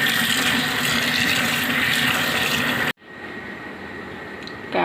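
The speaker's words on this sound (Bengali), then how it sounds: "আবার কাটার পরে একবার ধুয়ে নিব" Sliced vegetables are washed under a running kitchen tap, a loud, steady gush of water that cuts off abruptly, leaving quieter trickling and light splashing before the flow resumes at the end.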